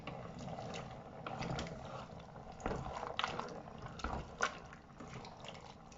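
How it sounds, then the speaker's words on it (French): A spoon stirs tomato sauce seasoned with salt and pepper in a Cookeo pot, giving soft wet scraping and squelching sounds in irregular strokes, close and quiet, with no talk. "Je remue un petit coup tout ça."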